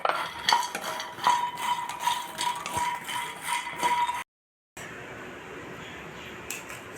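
Makhana (fox nuts) being roasted and stirred in a pan over very low heat, giving a steady close-up scraping and rattling with light clinks of the utensil against metal, broken by a brief pause before the stirring resumes.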